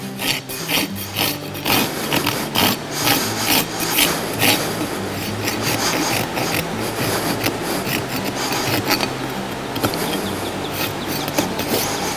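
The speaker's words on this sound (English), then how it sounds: "file them all square and to a uniform length" A farrier's rasp files the clinched nail ends on a horse's front hoof, shod with Kerckhaert SX rollers, square and even: a continuous dense scraping rasp, close and loud, with steady back-and-forth strokes and no talk.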